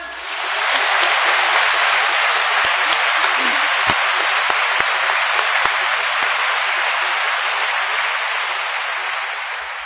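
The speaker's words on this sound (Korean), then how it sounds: "그 좋으신 우리 주님 앞에 영광의 박수 한번 보냅시다" A church congregation breaks into loud, dense applause in a worship gathering, a thick roar of many hands clapping close by that swells in and holds strongly before easing slightly at the end.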